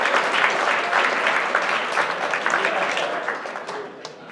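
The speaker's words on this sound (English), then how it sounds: "round of applause for everybody who helped out with that" A crowd at a UChicago Physics event gives loud, sustained applause, many hands clapping densely together before tapering slightly at the close.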